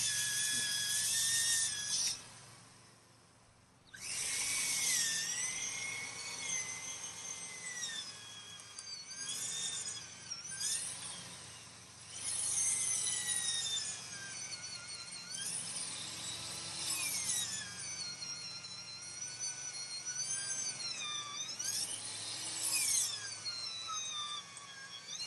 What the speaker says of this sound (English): Okay, so now I'll drill another hole.